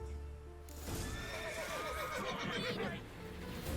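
A horse neighs in a loud, wavering whinny in The Witcher 3, with hoof clip-clops and a busy game soundscape around it.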